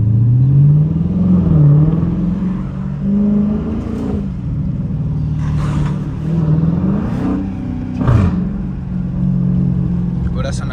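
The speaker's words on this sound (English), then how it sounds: "let y'all hear the engine with the hood off" A Dodge Challenger RT engine with the hood off idles loudly and close up, with throaty rumbles and several brief revs. Occasional sharp clicks and bumps cut through the steady drone.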